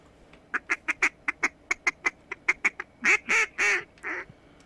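Ducks quack in a bird hunting video game, a run of short evenly spaced nasal quacks followed by several longer drawn-out calls, loud and close.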